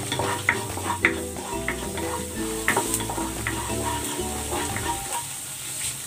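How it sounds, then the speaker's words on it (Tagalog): Chopped garlic sautés in a hot pan for chicken chopsuey, giving a steady sizzle broken by stirring scrapes and clinks of the utensil, with tonal background music underneath. "Magigisa na ako ng bawang."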